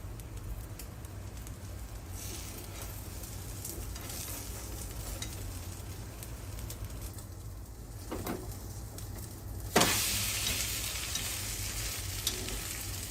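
Beaten eggs with cha-om frying thick in a pan, a faint steady sizzle and crackle throughout with a brief stir clatter, then a louder burst of hissing near the end; birds coo faintly in the background.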